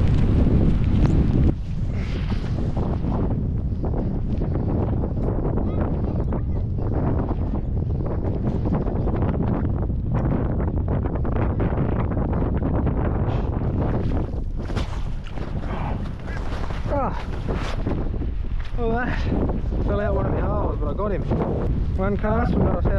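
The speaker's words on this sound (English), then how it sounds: "Fucking windy." Strong wind buffets the microphone throughout, a constant roaring rumble with gusts, while someone talks over it outdoors near water while fishing in a storm.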